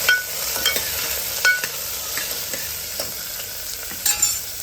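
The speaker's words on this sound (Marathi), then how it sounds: "भाज्या टाकल्यानंतर परतायचे 2 मिनटं" Vegetables sauté in hot oil with mustard seeds and curry leaves for sambar, a steady close sizzle broken by scraping stirring strokes and small crackles.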